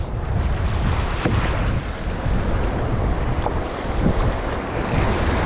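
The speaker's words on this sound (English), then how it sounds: "These are actually pretty small waves," Small ocean waves wash around a kayak offshore as a constant broadband rush with wind buffeting the microphone, loud and close, without any speech.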